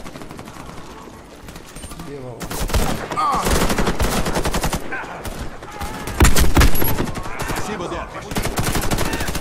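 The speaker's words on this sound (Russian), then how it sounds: "с балкона стреляет" Automatic gunfire from a balcony in the shooter game Warface rattles in rapid, loud bursts that swell and fade, with players talking over the shooting.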